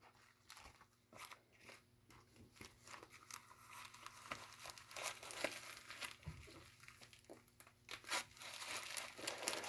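Paper crinkles, creases and rustles in close, irregular bursts while a homemade paper emergency mask is folded and adjusted, soft handling noises with no talking.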